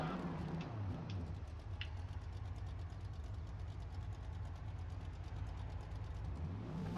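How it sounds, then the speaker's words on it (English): A deep V8 engine in a drag-tuned Mazda RX-7 in the racing game Forza Motorsport idles with a rough, rumbling lope, steady and continuous throughout, heard alone without talk. "I love the way it idles with this V8"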